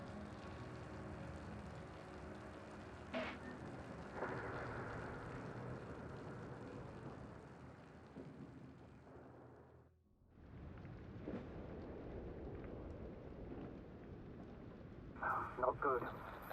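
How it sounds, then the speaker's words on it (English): A thunderstorm with rain rages in The Invincible, a dense, constant roar of wind and rain with rumbling swells that briefly drops out near the middle, then returns with crackling bursts toward the end. "The storm's raging."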